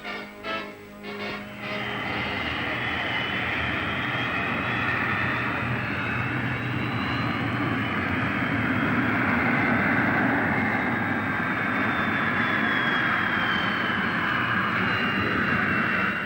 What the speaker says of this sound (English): watch a test flight of the Australian-designed Jindavick, Aboriginal term for a weapon carrier, the first remote-controlled pilotless jet aircraft in the world